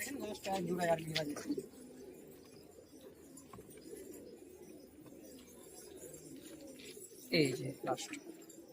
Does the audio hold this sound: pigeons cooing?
yes